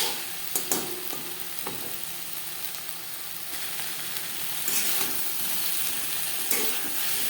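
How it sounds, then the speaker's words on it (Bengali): Boiled eggplant pieces with onion are stirred in a pan with little oil over a high flame, a steady close sizzle broken by scraping spatula clicks that grows slightly louder toward the end. "গ্যাসের ফ্লেমটাকে হাইতে করে দেব হাই ফ্লেমে দু তিন মিনিট নাড়াচাড়া করে নেব"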